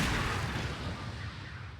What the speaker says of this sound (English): that wasn't a gunshot, that was like a shotgun